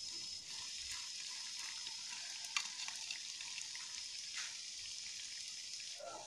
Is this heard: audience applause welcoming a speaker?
no